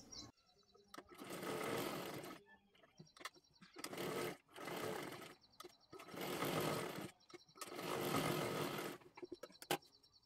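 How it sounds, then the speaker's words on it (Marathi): A sewing machine stitches a dress sleeve in five loud, sustained runs of rapid mechanical whirring, separated by short pauses with faint clicks and light background chirps. "आता इथे आपल्याला शिलाई करून तयार करायचं आहे."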